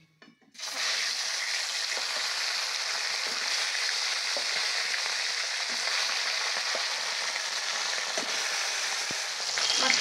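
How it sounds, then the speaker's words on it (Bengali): Small fish sizzle in hot oil in a home kitchen pan, a steady, bright crackling hiss that starts abruptly and runs on evenly with faint pops, no voices over it. "চলুন এবার বাকি মাছগুলো ভেজে নিই।"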